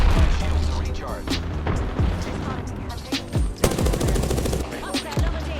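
Rapid bursts of weapon fire in Apex Legends, sharp close shots and automatic rattles with a few heavier booms, loud throughout, while a voice talks intermittently over the fighting.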